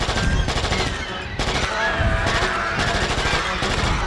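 Dense rapid gunfire in the King Kong video game, with loud, continuous bursts of automatic shots and a few brief pauses throughout.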